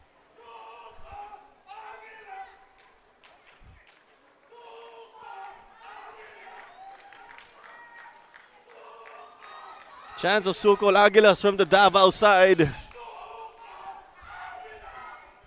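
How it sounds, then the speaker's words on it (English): Manila Digger football fans roar and cheer loudly for about two seconds during a Philippines Football League match against Davao Aguilas, bursting up between stretches of commentator talk. "We did get to hear Diggers fans also cheer them on."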